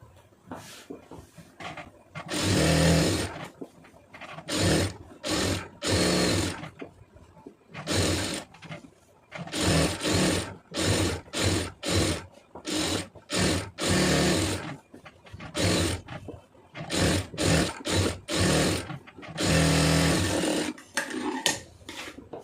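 Electric sewing machine stitching a hem on fabric, loud close whirring runs of rapid stitching that start and stop repeatedly, some bursts long and others short with quiet gaps between.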